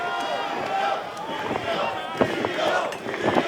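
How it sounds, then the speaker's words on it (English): A wrestling crowd in Los Angeles roars continuously at a live event, with scattered claps, thuds and sharp shouts rising through the din while a commentator talks over it. "You hear the crowd here in LA firmly behind the man of the hour."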